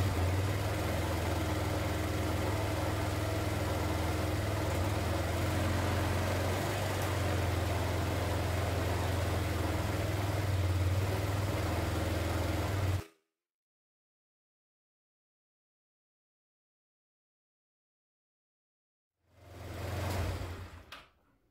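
A scooter engine idles steadily with a low, even hum for several seconds, then cuts to silence before the engine noise briefly returns near the end.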